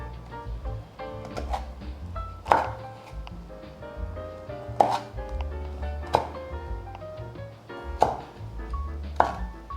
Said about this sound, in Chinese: 现在把它切成细条状。